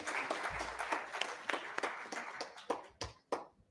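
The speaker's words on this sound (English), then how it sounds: "Please, a big round of applause," Audience at a regional school quality conclave applauding during a memento presentation, steady clapping from a room of people that thins out toward the end into a few scattered, distinct claps.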